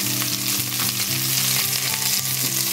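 Cauliflower frying in a pan, a steady close sizzle with oil crackling and faint stirring scrapes running throughout, no talking.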